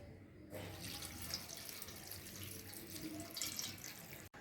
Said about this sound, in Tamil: இப்போது இதை தண்ணி ஊற்றி நல்லா அலசிக்கலாம்.